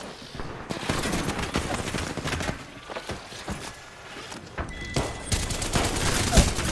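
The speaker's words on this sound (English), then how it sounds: "The enemies are shooting at me." Enemies open fire in a video game, producing sustained rapid bursts of gunfire and overlapping shots, loud and near, continuing almost without pause, while a voice speaks faintly underneath.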